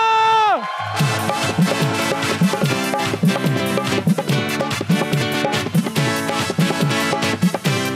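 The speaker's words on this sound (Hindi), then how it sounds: "प्लीज वेलकम आपकी भरपूर तालियों में आपकी मोहब्बत में फहद मुस्तफा" Studio audience at a television talk show applauding and cheering to welcome a guest, dense sustained clapping and whoops over a loud broadband wash, with a brief musical tone at the start.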